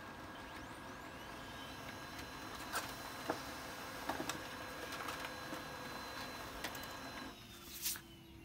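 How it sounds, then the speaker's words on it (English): A Brother HL-L2320D laser printer feeds and prints a sheet of sticker paper, giving a steady low mechanical whir with a few brief clicks and a short louder clatter toward the end. "So I put it in there right, and it printed fine."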